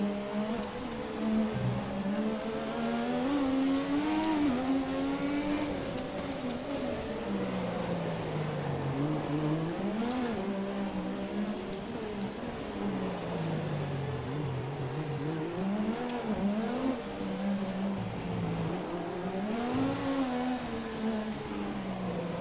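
McLaren MP4/4 Formula One race car engine in F1 2017, heard from the cockpit during a race: a loud, continuous high-revving wail that rises and falls through gear changes and corners for the whole stretch.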